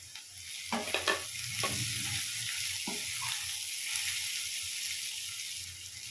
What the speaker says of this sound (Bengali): এবার সব সবজিগুলো আমি 5 মিনিট মতন এভাবে নাড়াচাড়া করে নেব